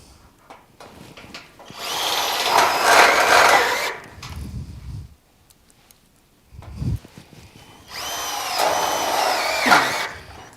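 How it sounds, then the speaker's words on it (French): Power drill driving screws into wooden deck boards on an outdoor timber terrace, with spacer jigs holding the board gaps: two long loud bursts of whirring drilling, separated by a quieter pause with low knocks. "Et maintenant, il suffit de visser en veillant à ce que les gabarits soient bien appliqués pour avoir le bon espacement."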